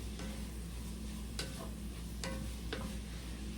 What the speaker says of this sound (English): I'm just stirring that all together